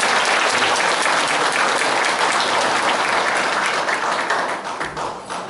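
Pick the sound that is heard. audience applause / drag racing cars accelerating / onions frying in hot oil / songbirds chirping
audience applause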